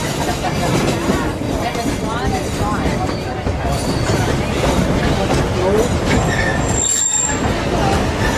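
Walt Disney World Railroad train rolling along its tracks, loud continuous rumble with squealing wheels and rhythmic clatter, heard from aboard a passenger car, with a voice over the speakers part of the time.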